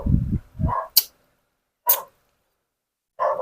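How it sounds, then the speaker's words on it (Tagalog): A neighbour's pet dog barks in short sharp bursts, a few separate yaps spaced by silence, fairly near and loud. "Pasensya na kayo, maingay yung alaga ng kapitbahay namin."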